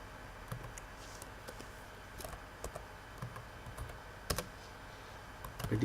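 Typing on a computer keyboard gives a quiet, fairly steady run of soft key clicks with a few sharper taps, close by, with no talking.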